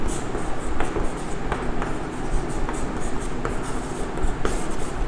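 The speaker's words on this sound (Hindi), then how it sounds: "यहाँ पे लिख रहा हूँ मैं" Scratchy strokes of writing on a board while a math answer is worked out, a close, steady scraping with short taps where each stroke starts.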